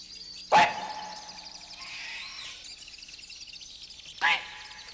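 A voice mimics the call of a ring-tailed thrush nip bird, giving two sharp, short squawks several seconds apart with a softer warbling sound between them, close and clear.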